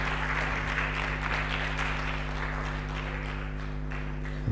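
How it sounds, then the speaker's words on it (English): An audience at a formal public leaders' alumni gathering applauds steadily, a dense wash of clapping from many hands at moderate distance over a low, constant hum from the hall's sound system. "A round of applause, a round of applause, a round of applause."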